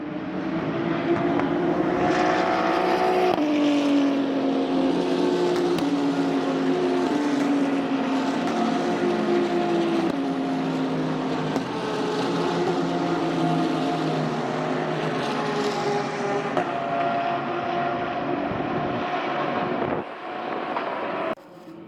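GT race cars at the Indianapolis 8 Hour endurance race, the Fanatec GT World Challenge 2023, roar past in a continuous loud drone of engines, pitch rising and falling as the cars shift and pass, heard from the stands without talk.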